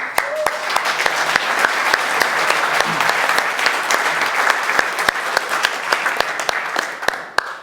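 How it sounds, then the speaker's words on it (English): Audience applause welcomes a speaker at a network automation conference talk in London, many hands clapping steadily throughout, with a few sharp individual claps standing out and a voice faintly under it. "Let's get a huge round of applause for Ian Chilton."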